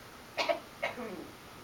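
A single person coughs twice in quick succession, close and fairly clear, followed by a faint breathy trailing sound in a quiet room.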